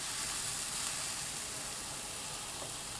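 Diced apple and white sugar stir-fry in a hot wok, giving a steady, loud, close sizzle that holds evenly throughout, with no talking.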